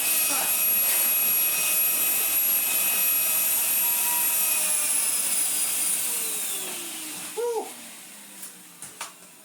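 A Numatic vacuum cleaner runs steadily with a loud, high whine that fades toward the end, followed by a few short knocks and thumps and a brief vocal sound.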